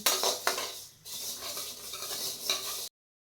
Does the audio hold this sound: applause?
no